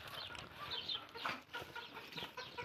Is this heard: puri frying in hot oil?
no